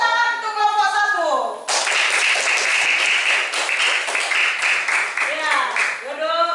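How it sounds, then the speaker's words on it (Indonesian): A classroom of young students gives a burst of applause for a group during a physical education lesson, steady dense clapping filling several seconds between brief spoken words at the start and end. "Tepuk tangan untuk kelompok 1."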